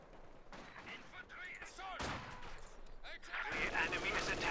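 MG42 machine gun fire in the video game Company of Heroes 2, sustained bursts of rapid gunfire and battle noise building in intensity, mixed with talk over the action.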